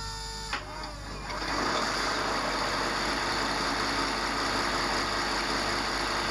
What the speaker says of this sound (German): erwacht die V60 zum Leben und verfällt anschließend das typische Leerlaufgeräusch